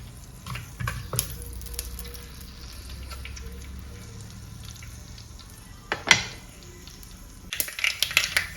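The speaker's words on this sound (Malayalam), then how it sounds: "കടുക് പൊട്ടിയിട്ടുണ്ട്." Faint crackle and sharp pops of mustard seeds spitting in hot oil, scattered at irregular moments with louder bursts near the end.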